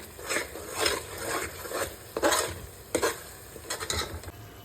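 Ginger garlic paste with chopped coriander is sautéed in a pan, with soft, repeated scraping and stirring strokes of a spoon against the pan over a faint, low sizzle.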